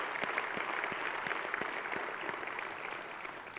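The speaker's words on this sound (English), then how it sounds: "Give them another round of applause" Audience applause at an annual luncheon, many hands clapping at moderate distance, steady and fairly soft, gradually tapering, with no talk over it.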